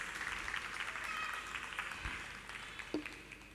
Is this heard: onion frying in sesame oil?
no